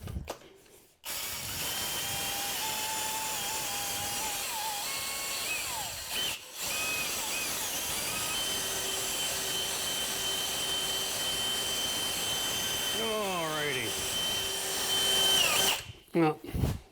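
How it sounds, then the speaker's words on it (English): A power drill at low speed mixes thick tile grout paste for a subway tile backsplash, a steady whirring hum running almost without a break at close range, starting and stopping at the ends. "And that drill will mix that."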